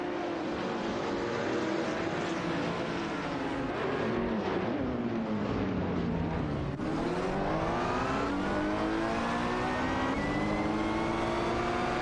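Race cars, including a Hyundai Genesis Coupe GT4, lapping a circuit in a racing video game, engines droning and revving continuously with rising and falling pitch as the field battles for position, no talk over it.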